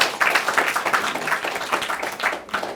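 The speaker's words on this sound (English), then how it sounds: "Round of applause for" An audience at a panel discussion gives a short burst of dense clapping that thins out toward the end.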